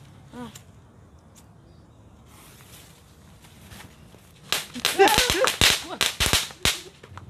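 After a quiet stretch, a rapid burst of sharp, loud firecracker cracks and pops goes off close by, several blasts in quick succession.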